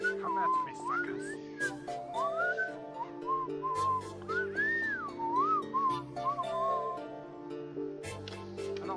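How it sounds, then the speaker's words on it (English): A person whistles a wandering, sliding tune in a Super Craft Bros. game session, the notes rising and falling in quick phrases over game music and sound effects. "I don't like it when he whistles."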